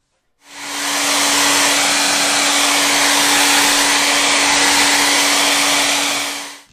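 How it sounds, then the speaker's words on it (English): A blow dryer drying a paint sketch switches on and runs as a loud, steady whooshing hiss with a constant motor whine, holding evenly for several seconds before stopping, with no talking. "To quickly dry this, I went ahead and used the air or the blow dryer to dry this quickly."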